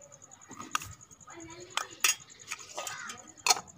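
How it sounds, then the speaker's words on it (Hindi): A spoon scoops milk powder into a banana milkshake mix, making a few quiet, sharp metallic clinks and taps against the container. They are scattered across the moment and heard under a voice speaking. "अब इसमें हम मिल्क पाउडर के 2 चम्मच डालेंगे।"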